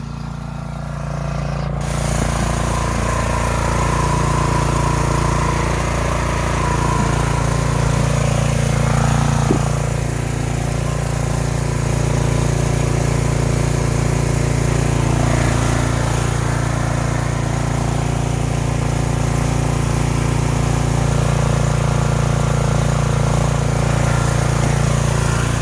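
A running TX850 pressure washer with a fault that leaves almost no water pressure, its engine droning steadily and loudly throughout, close up, with no talk over it.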